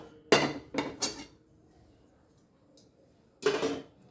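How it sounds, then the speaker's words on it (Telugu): Dry fruits being dry roasted in a pan: three sharp metallic clinks of a utensil against the pan in quick succession, a quiet pause, then another clattering knock; no voices. "విడివిడిగా డ్రై రోస్ట్ చేసుకోవాలి."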